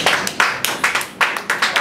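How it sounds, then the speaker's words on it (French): Audience clapping for a French-language speaker, a sparse scattering of hand claps in uneven bursts, fairly close and clear, with no voices over it. "Je ne sais pas si ça vous dérange de m'acclamer un peu pour l'Afrique."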